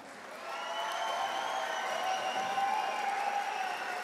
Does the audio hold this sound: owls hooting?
no